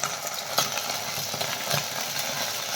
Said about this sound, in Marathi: आणि सॉसेस यामध्ये छान असे परतून घ्यायचे